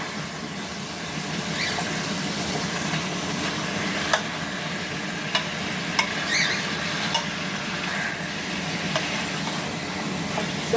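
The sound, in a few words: chicken wings browning and sizzling in a pan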